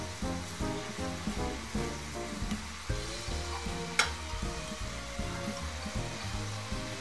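Modak filling is stirred and roasted in a pan over a low flame: rhythmic scraping strokes run over a light sizzle, with one sharp metallic clink partway through and no voices.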